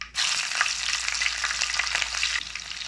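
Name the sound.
mustard seeds and fennel frying in hot oil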